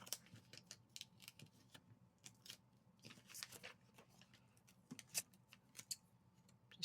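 Paper is trimmed for a journal page with small scissors, giving faint, close snips and light rustles scattered over a quiet background.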